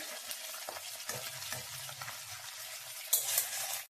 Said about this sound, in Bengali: দেখুন, মাছের মাথাটা ভাজা হয়ে গেছে